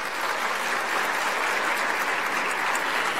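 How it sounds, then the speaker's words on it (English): Sustained applause from a large crowd at an education awards ceremony, dense and even throughout, with no pauses or voices standing out. "Give them another round of applause."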